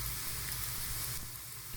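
Ham and pasta sizzle steadily in a Tefal One Pot while being stirred, a close, even hiss of frying with no talk.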